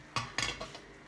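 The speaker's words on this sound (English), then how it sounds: "So I switch off and I put inside the bowl." Cooked fish and prawns with vegetable pieces are tipped into a bowl, giving two quick clinks of utensil against dish followed by faint softer scraping, close and quiet in a home kitchen.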